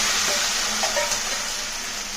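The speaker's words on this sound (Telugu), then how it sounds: "ఇప్పుడు తాలింపు బాగా వేగింది కదా మనం ఇది మెదుపుకున్నది దీనిలోకి వేస్తాం" Mashed eggplant drops into a sizzling onion tempering and is stirred, producing a continuous bright sizzle with a few spoon scrapes, close and fairly loud, with no voices.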